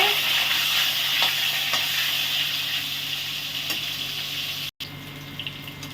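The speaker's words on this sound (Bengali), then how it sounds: "এখন আমি একটু ভেজে নিব উল্টা পাল্টাইয়ে" Apple pieces frying in mustard oil in a wok, a loud, dense, continuous sizzle with occasional stirring scrapes, close up and steady, with a brief dropout near the end.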